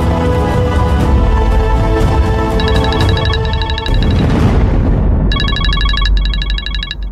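A mobile phone rings indoors in two bursts of a bright, repeating electronic ringtone, the second longer and clearer, over a busy background of music and ambient sound.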